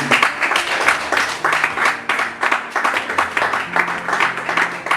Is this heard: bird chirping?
no